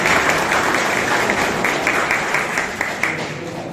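Sustained crowd applause at a municipal Firefighters' Day ceremony of a volunteer fire brigade in Łózki, steady dense clapping throughout with a few sharper individual claps standing out near the end.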